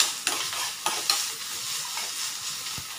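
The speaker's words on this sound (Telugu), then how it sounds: "ఉల్లిపాయలు వేగనివ్వాలి. వేగుతున్నాయి కదా" Onions frying in a pan for sprouted-bean snack, a steady close sizzle with a few brief stirring scrapes, alone without talk.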